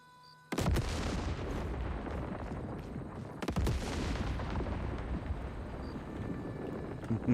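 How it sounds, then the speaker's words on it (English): Grenade blasts in the video game Once Human: a sudden loud boom, then a second heavy explosion about three seconds later, with dense rumbling gunfire and debris noise filling the gaps. "Man, those grenades hurt."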